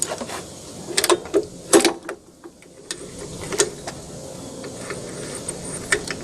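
Ratcheting clicks and metallic knocks from a wrench working loose a corroded 15 mm bolt on a car engine, a few sharp bursts close up with quieter mechanical ticks between them.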